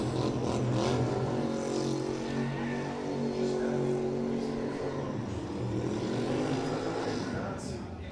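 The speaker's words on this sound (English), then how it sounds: "So Al Amri warms the tyres" A drift car at an international drift championship in Oman warming its tyres, its engine droning and revving steadily throughout, loud and continuous, with a commentator talking over it.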